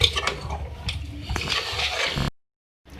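Water splashes and gurgles as about one and a half glasses are poured into a pot of chicken and potato shorba for a couple of seconds, then stops abruptly into silence.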